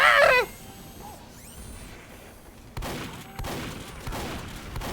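Gunfire in Team Fortress 2: a few sharp shots ring out after a short burst of noise, then a quieter stretch before more close, loud bangs follow at irregular intervals.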